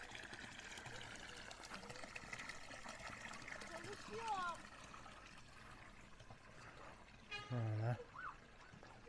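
Icy cold, clear water pours from a natural spring fountain in the countryside of Düzce, Turkey, splashing and trickling steadily, with people talking over it and a brief louder gush near the end.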